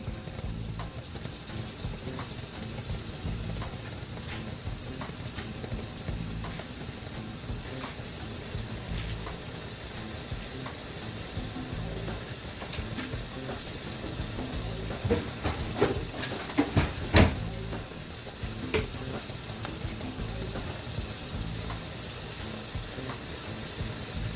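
A pot of collard greens with smoked turkey tails cooks on the stove, giving off a steady, soft hiss and sizzle of steam that continues throughout with only faint clinks.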